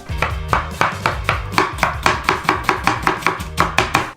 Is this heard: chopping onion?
yes